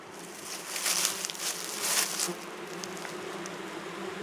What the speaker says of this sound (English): So you can see here in this beehive, honeybees are quite busy and a little bit noisier.